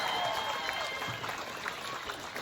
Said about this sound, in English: I want to do another round of applause for our amazing staff here